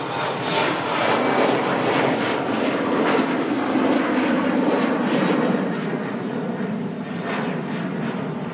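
A Finnair airliner departing for Helsinki roars steadily and loudly overhead, a broad continuous jet rumble that holds for the whole stretch and eases only slightly toward the end.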